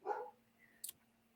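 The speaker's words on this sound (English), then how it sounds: "sorry about the dogs here" A dog gives a single short, faint bark in a quiet room, followed by a brief sharp click or yip.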